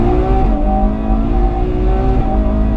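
A Ferrari 812 Superfast V12 rounds a tight left-hand hairpin on a race track. Its engine drones loud and close, holding a steady tone with small pitch shifts and no voices.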